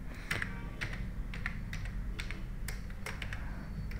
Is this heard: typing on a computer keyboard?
yes